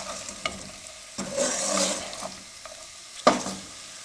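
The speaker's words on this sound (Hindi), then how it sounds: "अब इसको हम अच्छे से मिक्स कर लेंगे" Potato manchurian stirred and fried in a pan, with a steady soft sizzle broken by spoon scrapes and clinks against the metal, and a louder knock near the end.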